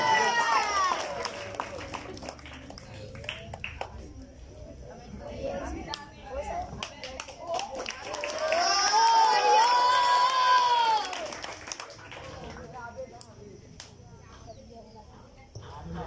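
Crowd at a school annual sports prize-giving, with scattered clapping and a swell of cheering and children shouting partway through, heard at a distance under an announcer's voice.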